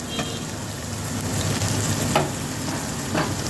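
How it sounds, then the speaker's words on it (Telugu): Ginger paste and chopped onion fry in hot oil with a loud, dense, continuous sizzle close by, a few light stirring clicks scattered through it. "ఇదిగోండి అల్లం పేస్ట్ వేగుతుంది కదా"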